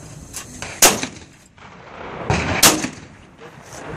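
Two loud shotgun blasts, a couple of seconds apart, ring out at clay pigeons on a shooting range, with faint voices in between.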